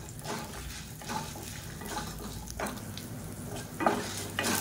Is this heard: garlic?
yes